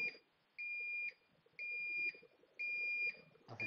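Alarm notification beeps from HikCentral security software, three long sustained electronic tones in an even repeating pattern, each about half a second with short gaps, clear and alone over a quiet room.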